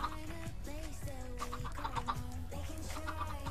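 Chickens clucking steadily in a busy cluster, with short rising and falling calls overlapping against a constant low hum.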